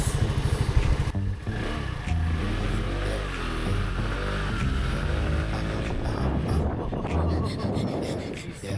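A Rusi RFI 175 CVT scooter idles and revs close by after a clutch lining replacement, its engine note rising and falling as the clutch engages, while someone talks over the mechanical clatter.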